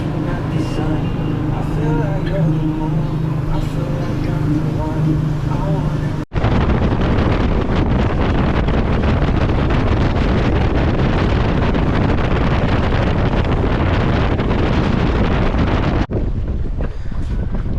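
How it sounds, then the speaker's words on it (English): Loud, steady wind buffeting the microphone outdoors on a fishing boat, a constant roaring rumble that barely lets up, with a brief dip partway through. "It's a bit windy out here."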